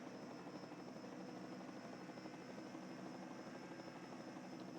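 A helicopter flies above a road course race, its rotor producing a steady, distant thrumming drone that stays constant throughout, faint and without any speech.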